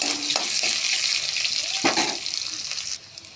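Chopped onion frying in a pan for a spicy puti fish curry, a bright continuous sizzle with repeated spatula scrapes as it is stirred, close, settling quieter at the end.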